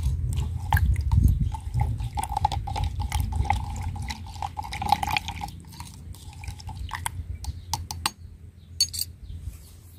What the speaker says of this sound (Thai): จากนั้นคนส่วนผสมทั้งหมดให้เข้ากันเลยค่ะ